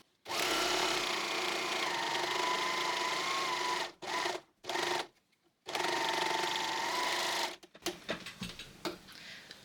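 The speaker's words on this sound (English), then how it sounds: "I'm not going to cut over the line that I've just sewn, I'm just sewing over these edges." An overlocker sews over raw fabric edges in long continuous bursts of fast, steady whirring, broken by brief pauses and short stop-start runs toward the end, loud and close with no talk.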